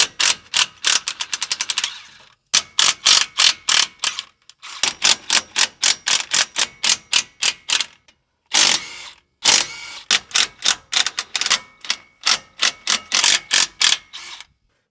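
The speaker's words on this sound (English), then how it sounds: "So we have all those bolts zipped out" A ratchet wrench spins out 9/16 bolts from the front differential cover of a Ford F-350, making loud, fast runs of sharp clicks in repeated bursts with brief pauses between bolts.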